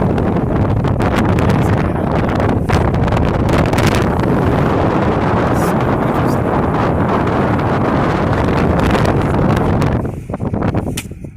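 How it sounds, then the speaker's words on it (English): Strong wind buffets the microphone at the Wupatki pueblo ruin, a loud, constant roaring rumble that eases off near the end, with no speech. "You can feel the wind."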